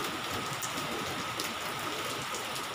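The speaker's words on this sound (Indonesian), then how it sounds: "Hujannya gede lagi, guys." Heavy rain pouring down steadily outside an apartment, a dense even hiss of drops on surfaces throughout, with no voices.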